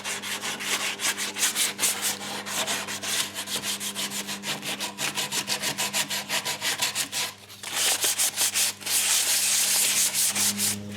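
Sandpaper rubs back and forth over a wooden guitar kit body in quick, rhythmic strokes, close by and steady, with one brief pause before the scraping resumes.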